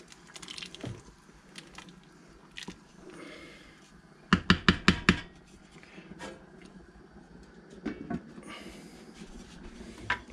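Porridge of trimmed chicken scraps with a couple of drops of fish oil is stirred in a pot, with scattered wet knocks and a quick burst of four or five sharp clacks of the spoon against the pot's side.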